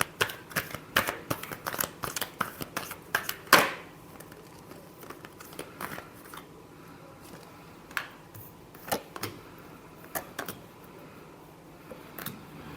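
Tarot cards being shuffled by hand in a quick run of crisp riffles and slaps, loud early and then sparser, softer flicks with no voices.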